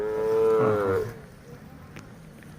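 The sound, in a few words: Hallikar cattle mooing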